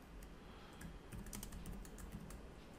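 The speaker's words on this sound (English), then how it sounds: "Oops, sorry about my typing here." Fast, continuous clatter of keys being typed on a computer keyboard, steady and fairly close with no voices.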